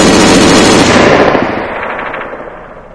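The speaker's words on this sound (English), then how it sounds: "when you shoot the gun, deploying your bipod" A gun fired from a deployed bipod in Arma 3 with the IFA3WarMod, a loud, close, rapid burst of shots that fades into a rolling echo over about three seconds.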